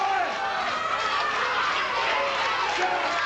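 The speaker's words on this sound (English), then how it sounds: "Crowd spurring him on" A wrestling arena crowd cheers a wrestler on with a steady, dense roar of voices and shouts that stays loud throughout.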